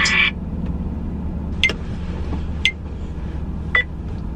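A car's low battery warning sounds as three short, clear beeps about a second apart, over a steady low cabin rumble.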